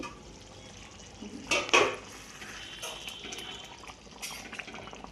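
A pot lid lifted off a simmering pot of chicken maharani curry, giving a brief metallic clatter and scrape followed by soft bubbling and liquid sounds close by.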